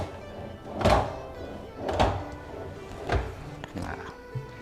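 A soft-close drawer in newly installed house furniture is pushed shut along its track, giving about three dull thunks spaced roughly a second apart with a smaller knock after, close by in a quiet room.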